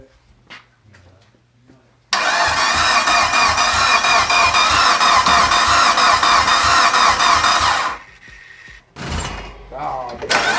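A Mitsubishi Evo built toward 1000hp with a Precision 6870 turbo cranks and fires for its first start, bursting into a loud sustained roar for several seconds before cutting off, with voices before and after.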